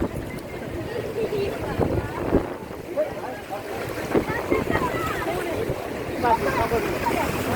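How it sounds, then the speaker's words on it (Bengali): Fishing launches and trawlers move on the open sea off Digha, a rumbling engine and wind wash heard close and continuous, with a voice speaking over part of it. "মৎস্যজীবীরা লঞ্চ ট্রলারে করে মাঝগুলি থেকে ফিরছেন"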